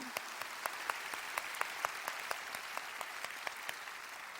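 A church congregation claps in a steady, quick rhythm during worship praise. The claps are faint and even, with no voices over them.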